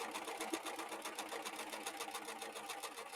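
A Husqvarna Viking S100 sewing machine fitted with a pearl foot stitches beads onto fabric, giving a fast, even mechanical whirr with a steady rhythmic pulse at close range.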